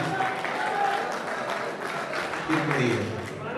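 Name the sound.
audience applause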